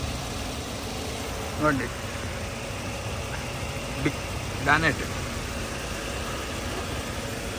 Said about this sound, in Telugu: ఇంజిన్ చాలా స్మూత్గా ఉందండి. బండి ఆన్లోనే ఉంది వెహికల్.